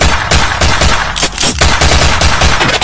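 Loud, dense gunfire sound effect: rapid bursts of shots rattle almost continuously with a few sharper cracks, and nobody speaks.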